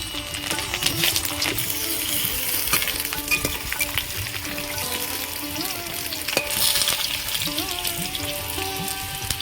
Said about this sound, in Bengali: তেল গরম হয়ে গেছে প্রথমে আমি আলুগুলো ভেজে নেব